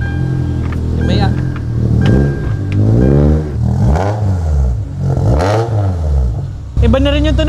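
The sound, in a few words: car with K-series engine revving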